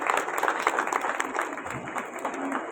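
A temple festival audience applauds a singer, steady dense clapping held throughout at moderate loudness, filling the space without pause.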